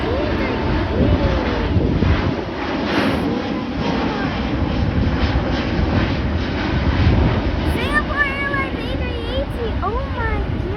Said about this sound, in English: Bye bye Singapore Airlines A380.